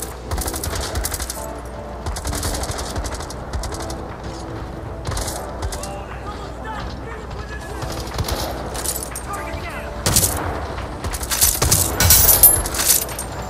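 Rapid bursts of gunfire in the video game Battle Teams 2 crackle repeatedly, with sharp shots growing denser toward the end amid busy game noise.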